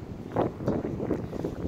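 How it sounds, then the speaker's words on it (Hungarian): Stormy wind gusting and carrying sand across an open outdoor spot on a sunny summer day, a steady rough rush with pulsing gusts close to the microphone and no talk. "Öt percenként rájön ez a viharos szél, és visz itt homokot minden."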